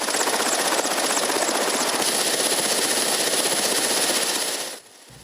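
Helicopter rotor and engine roar, loud and steady, in news footage from Kharkiv in May 2022 of a Russian helicopter evacuating civilians, cutting off abruptly near the end.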